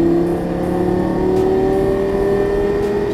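An exotic race car accelerates at full throttle on the Las Vegas Motor Speedway track, its engine tone rising steadily in a loud, sustained whine heard from inside the car.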